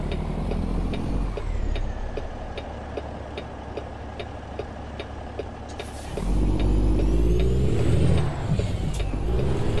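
A traffic scene at a light in American Truck Simulator, with a steady engine drone and a ticking indicator-like pulse, followed by a louder, rougher engine surge after a hiss partway through.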